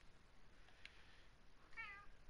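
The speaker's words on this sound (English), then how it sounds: "Meow." A house cat lets out a single faint meow near the end, soft and brief against a quiet, hissy room.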